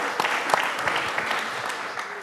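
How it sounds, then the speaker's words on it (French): Audience applause at a conference event, a dense patter of clapping hands with a few louder individual claps standing out, continuous over the short stretch. "Carole Delga, merci de l'applaudir encore une fois."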